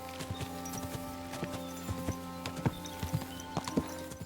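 Horse hooves clip-clop in the medieval video game Kingdom Come Deliverance 2, a steady walking rhythm of distinct hoof strikes over a bed of ambient game music with sustained tones.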